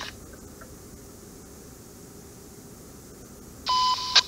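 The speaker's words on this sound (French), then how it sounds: "si vous entendez des bip bip, c'est normal" A steady low hiss runs throughout, then a sharp electronic beep sounds near the end, loud and clear, followed by a brief second blip, in the truck driving game Euro Truck Simulator 2.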